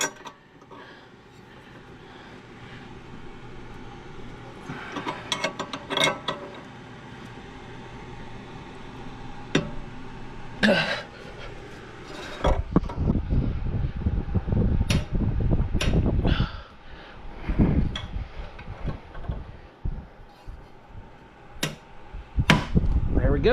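An 18 mm wrench strains against the inner tie rod on a Ford Thunderbird, producing clanks, knocks and scraping metal strikes that build into louder, denser rattling bursts midway, with light mechanical noise throughout.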